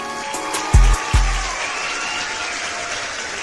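An excited crowd applauds in a dense, continuous wash of clapping, broken early by two heavy low thumps.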